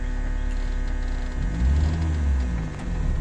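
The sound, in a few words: car pulling away in first gear during driving lesson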